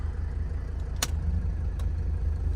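Air conditioning fan blowing inside a 1984 Mercedes 300D, a steady close hiss of moving air over a low hum, with one brief click partway through and no talking.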